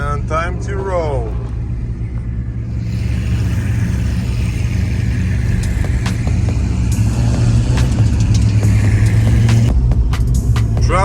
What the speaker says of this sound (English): Traffic jam with supercars.